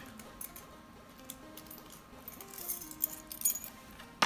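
Metal keys jingle softly and intermittently, clinking louder toward the end, while someone fumbles to open a sealed Yu-Gi-Oh booster pack; no one speaks.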